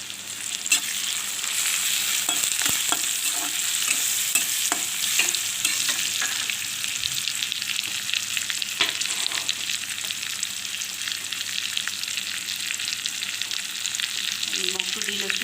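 A paste of ginger, garlic, turmeric, chili and cumin fries in a pan for a meat pulao. It gives a loud, continuous sizzle with frequent stirring scrapes and clicks throughout, and no voices.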